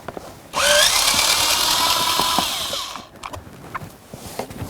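A power driver fitted with a T20 Torx bit whirs loudly for about two and a half seconds, backing out a blower motor mounting screw in a 2003-2007 Honda Accord HVAC assembly, followed by faint tool clicks and handling.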